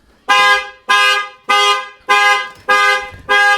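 A Mercedes-Benz GLB 250 car alarm blares close by in six loud, evenly spaced honks, each a harsh horn burst of about half a second separated by short gaps.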